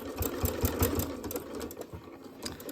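A sewing machine runs steadily, stitching a fabric scissors holder made from scraps, a close, even mechanical whir with rapid needle pulses and brief surges in speed throughout.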